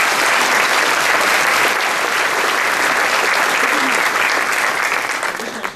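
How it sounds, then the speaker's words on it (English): A room of attendees at a chamber of commerce annual meeting breaks into loud, sustained applause for donors, steady and dense before thinning out in the final second. "Let's give them a round of applause."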